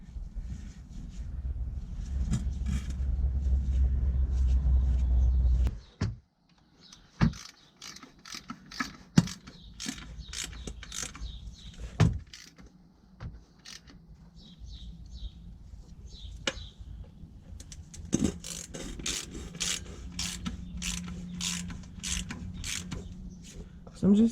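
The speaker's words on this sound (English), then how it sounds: "tighten them really, really good, nice and tight with your ratchet" A hand ratchet tightens the differential cover bolts on a 2007 Dodge Ram 3500, with repeated clicking pawl strokes and metallic taps following a stretch of low rumbling. Some strokes are quick bursts and others are isolated clicks.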